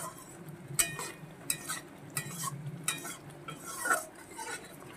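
Turmeric, cumin and coriander powder being sautéed in oil for a rohu fish curry with potatoes, soft sizzling under a series of spatula scrapes and light metal clinks, quiet and with no voices.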